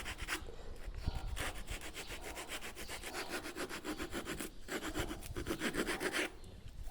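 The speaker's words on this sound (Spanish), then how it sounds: "los pequeños fallos que han quedado se pueden quitar fácilmente con una escojina" A rasp filing stone while carving a molding, close and steady, with rhythmic back-and-forth scraping strokes that continue throughout with brief pauses.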